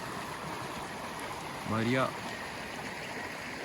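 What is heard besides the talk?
river flowing near a waterfall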